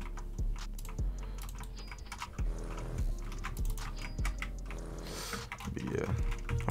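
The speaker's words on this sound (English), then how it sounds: "My keyboard loud as fuck and I'm like clacking them hoes" Keys clack rapidly on a computer keyboard, loud and close, with heavier thumps landing roughly once a second beneath the clatter.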